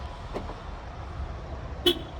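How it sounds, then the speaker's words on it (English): A single short horn chirp sounds from a car as it is locked with the key fob, brief and moderately loud against quiet outdoor background noise. "This will help you know if you've unlocked the car or not. You'll also audibly be able to hear that you're unlocking it."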